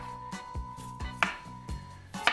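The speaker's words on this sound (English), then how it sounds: "I'm gonna cut nice slices out of it and literally made French fry shape" A knife cuts a rutabaga into fry-shaped sticks on a cutting board, with a series of sharp, irregular chops and thuds close by and no talking.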